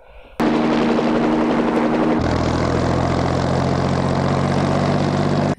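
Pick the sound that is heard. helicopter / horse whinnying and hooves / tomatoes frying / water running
helicopter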